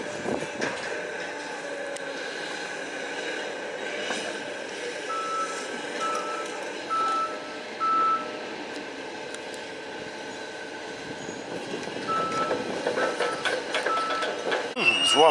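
Wagons being loaded with scrap metal in a rail yard, with a steady clanking industrial din and reversing beeps repeating through the middle, faint voices underneath.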